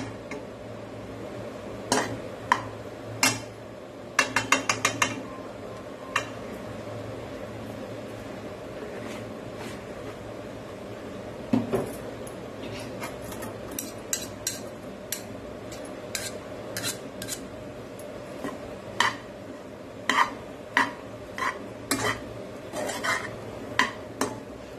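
Edible gum roasts in a spoonful of ghee in a pan for Maharashtrian dink modak, a low frying hiss under sharp, irregular metallic scrapes and clinks of a spoon against the pan, some in quick clusters.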